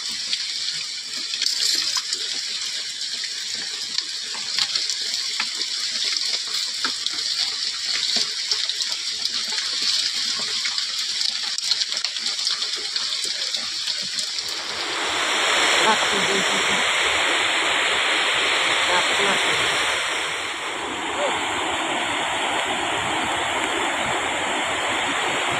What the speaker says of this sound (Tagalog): Nasa ilog po kami ngayon, malaki yung ilog.